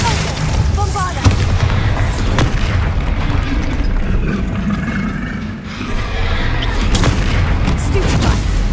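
The Bombarda explosion spell going off in the Hogwarts Legacy video game, with loud booming blasts and sharp bursts over a dense rumbling combat mix, and short voice shouts in between.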